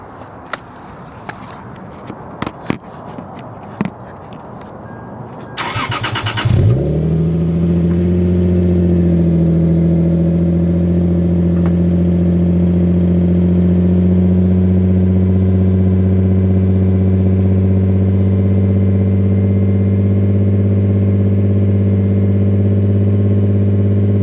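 A Lexus IS300 with a GReddy Revolution RS exhaust cold starts: starter clicks and cranking give way to a sharp catch, then a loud, deep, droning idle holds steady for many seconds.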